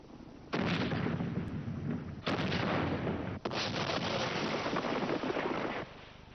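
An artillery bombardment from a siege roars as a dense, sustained rumble of blasts and crackling fire. It breaks briefly twice and then carries on loud before cutting out, with no voices.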